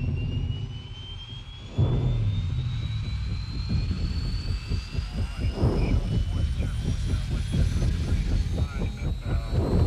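A helicopter roars nearby, its engine whine rising and a rhythmic rotor chop pulsing steadily throughout.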